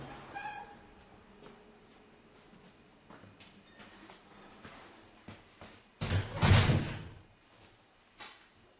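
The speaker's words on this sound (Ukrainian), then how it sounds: "Вхідні двері." An apartment's entrance door opening and then shutting with a loud thump near the end, following soft handling noises in a quiet indoor space.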